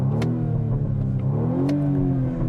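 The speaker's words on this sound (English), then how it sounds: "there you can hear some of the burbles and pops from the exhaust" A BMW M235i Gran Coupe's four-cylinder engine revs up and settles, with a rising and falling mechanical drone heard close and loud, punctuated by a couple of sharp crackling exhaust pops.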